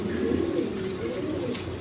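Colouring pigeons of mixed breeds cooing in a steady, low, rolling murmur, close and fairly loud, with several birds overlapping continuously and no talk.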